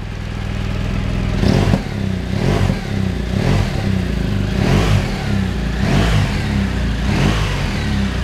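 A 2017 BMW R1200GS TE boxer-twin motorcycle revs repeatedly, about seven loud rising blips in a steady rhythm over a throbbing idle, close by with no talk.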